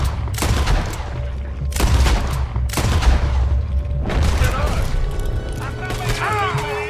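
Gunfire from a weak weapon during the Saint Denis bank robbery shootout in the video game Red Dead Redemption 2: several loud, sharp shots and booms at irregular intervals over a constant low battle rumble, with a voice talking underneath.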